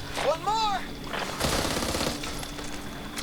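Rapid gunfire from the zombie shooter Back 4 Blood, a dense burst of shots under a voice speaking close to the mic, with a brief whistling effect near the start.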